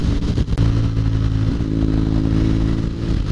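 A BMW F800GT motorcycle cruises along a road on a windy day, its engine droning steadily with a low, throbbing hum under rushing wind noise.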